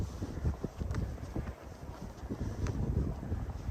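Winter wind buffets the microphone while walking outdoors along a creek in Regina in January, a steady low rumbling gust noise with uneven surges throughout and no speech.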